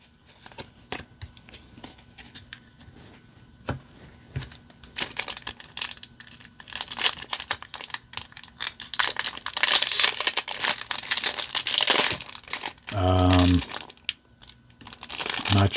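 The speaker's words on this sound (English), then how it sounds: "Pack does not want to open." A foil trading card booster pack being crinkled and torn open by hand, with irregular crackling bursts growing louder and denser toward the end, a short voice near the end.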